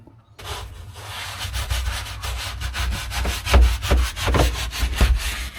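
Steady hand scrubbing on a truck cab's hard floor, a rough brushing rasp with rhythmic strokes that grow louder and more forceful toward the end.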